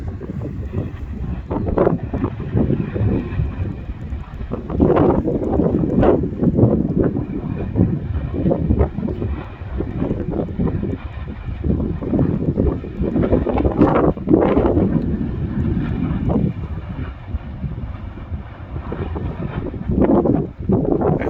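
Strong wind buffets the microphone continuously beside a glowing volcanic spatter cone in the deep of night, a loud rumbling roar that swells and eases in gusts without letup.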